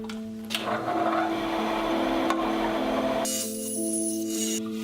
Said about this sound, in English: So I'm gonna go ahead and just take that off with a bandsaw.